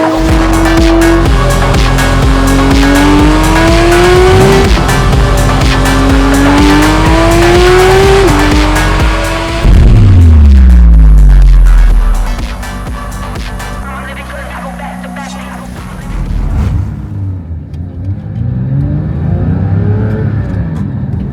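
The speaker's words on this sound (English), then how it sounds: "that car was a Porsche 911 GT3" Porsche 911 GT3 engine revving hard through rising gear pulls, loud and close, then a deep low rumble and quieter driving sounds as the pace eases.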